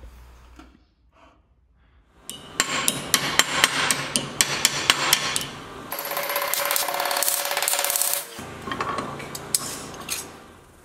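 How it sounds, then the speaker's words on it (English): Sheet metal on an Alfa Romeo Giulia 105 door sill is worked with a hammer and dolly, with a rapid series of sharp, ringing metallic blows up close, then a grinding rub and more strikes. "it's a rather easy thing to do to stretch sheet metal with the hammer and the dolly"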